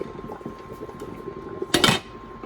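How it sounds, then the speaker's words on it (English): A pot lid is set back on with a sharp metallic clank and brief rattle near the end, close and loud, after quieter kitchen clinks while steaming hydrosol for hair care. "And put my lid back."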